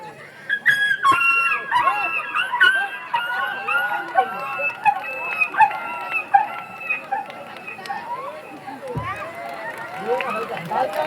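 A human voice imitates a dog yelping after its tail is stepped on, performed on stage: a run of shrill, wavering yelps and whines for about ten seconds, loud and close, with noisy background underneath.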